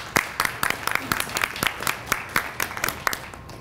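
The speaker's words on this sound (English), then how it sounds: "I think that deserves a round of applause." An audience at a NAACP unit annual meeting claps in a short burst, with individual hand claps distinct within the loose applause.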